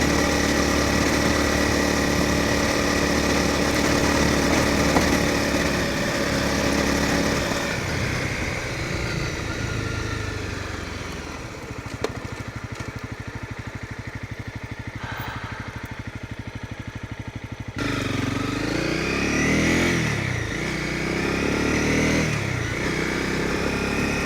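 Adventure motorbike ridden on rural roads in South Australia, its engine droning steadily and loudly with wind rush, easing off midway to a lower idle-like rumble before picking up again.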